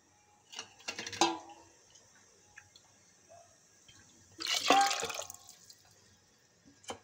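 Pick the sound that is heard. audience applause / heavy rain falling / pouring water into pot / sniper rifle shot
pouring water into pot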